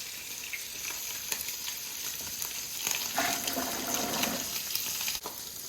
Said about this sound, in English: Don't forget to continue stirring the sausage so it doesn't burn.